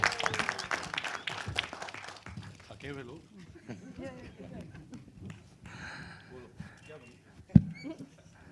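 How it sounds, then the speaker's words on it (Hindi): Audience applause for actor Arshad Warsi at a film trailer launch: a burst of dense clapping in the opening seconds, then fading under someone speaking over a microphone. "एक बार जोरदार ताली होनी चाहिए अरशद के लिए, जोरदार तालियां"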